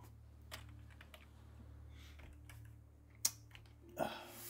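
Faint, sparse clicks of a computer keyboard being typed on while a cryptic crossword is solved, with a couple of sharper key presses near the end over a quiet room hum.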